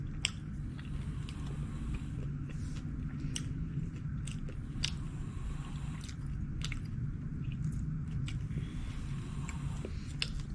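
Close, steady biting and chewing of food dressed with garlic sauce, soft wet squishes and crunches repeating through the whole stretch over a low background hum.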